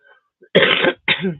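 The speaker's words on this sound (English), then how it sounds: "I'm just coughing way too much." Two harsh, loud coughs close to the microphone, one right after the other.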